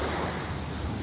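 Sea waves breaking on a province shore in Masbate, a steady broadband wash of surf and wind, continuous and fairly loud with no distinct voices.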